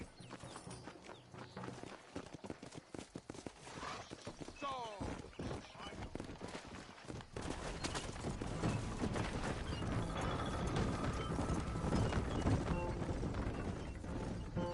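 Horse hooves clip-clop at a steady pace in the Red Dead Redemption video game, blended with continuous game ambience and what may be voices.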